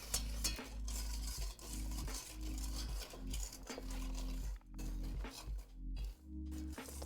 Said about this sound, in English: whisk until this is nice and smooth